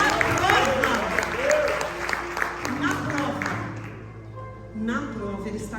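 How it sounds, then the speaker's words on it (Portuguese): A church congregation claps and cheers in a steady burst of applause that gradually thins out, with a voice carrying over it toward the end. "Aplauda o Senhor por isso."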